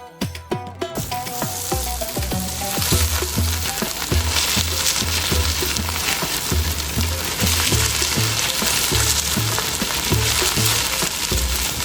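Steady loud sizzling of garlic frying in a hot pan, with a continuous crackle and regular clinks of a utensil stirring throughout.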